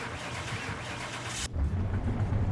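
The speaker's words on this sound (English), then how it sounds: "We'll go ahead and start the car." A supercharged car at a custom car shop starts up: an even broadband noise breaks off sharply, and the engine settles at once into a deep, close, steady idle rumble.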